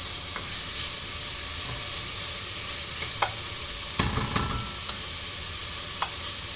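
Onions sautéing in a pan for bolognese sauce, a steady soft sizzle with occasional light clinks and stirring scrapes, no voices.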